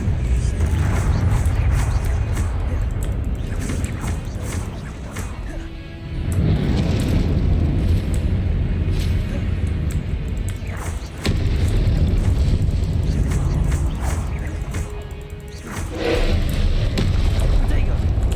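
Fiery Confringo spell blasts go off in Hogwarts Legacy gameplay as repeated deep booms and bursts, layered over dense rumbling game effects and audio, with a few separate impacts across the stretch.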